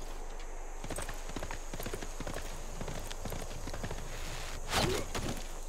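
Rapid clip-clop of galloping horse hooves from horse archer units in the video game Civilization 6, steady and moderately loud throughout, with a brief louder burst near the end.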